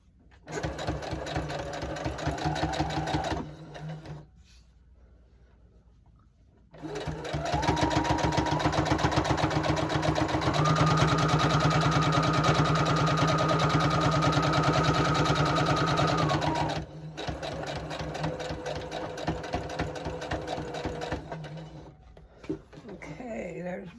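A sewing machine runs in long, steady, close stitching bursts, with a rapid mechanical whir broken by short pauses and a brief stop midway.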